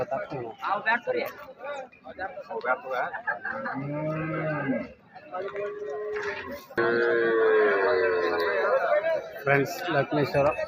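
Cattle low and moo amid lively chatter and voices at the busy outdoor Friday cow market in Laxmeshwar, Karnataka, the animal calls rising over the crowd.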